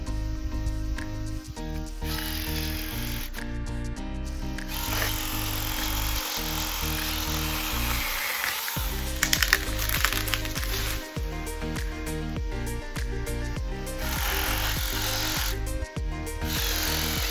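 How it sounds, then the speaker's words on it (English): A new chainsaw runs at full throttle cutting trees and brush on a homestead, with a loud steady buzzing drone that repeatedly drops out briefly and revs back up between cuts. "Wow, this chainsaw is pretty powerful,"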